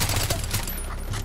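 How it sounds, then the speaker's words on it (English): Rapid gunfire in Far Cry 4, shooting at a cornered honey badger: a dense, loud burst of shots running continuously through a short moment of game combat. "Pump bullets into it, it's no longer a honey badger."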